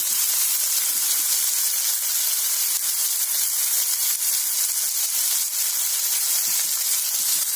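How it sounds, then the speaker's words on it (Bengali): Loud, continuous sizzling hiss of Malabar spinach seeds frying dry in a hot pan, steady throughout with no voices. "পুরো এটা ভাজা ভাজা হবে"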